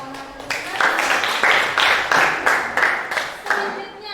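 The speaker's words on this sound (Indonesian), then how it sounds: "Oke, bagus sekali tepuk tangan" A class of students in an Indonesian school lesson claps together in a steady, rhythmic burst of close, loud applause, with evenly spaced claps in unison.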